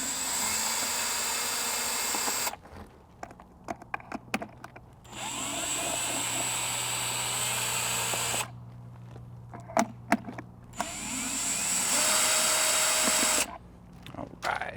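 A small electric screwdriver works screws out of a Sony FX6 camera body in several loud, close whirring bursts, separated by quieter gaps filled with small clicks and handling noises.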